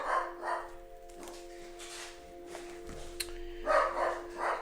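A dog barks indoors at home in a few short, faint bursts at the start and again near the end, over a steady low hum.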